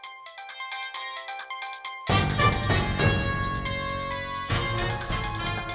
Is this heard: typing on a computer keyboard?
no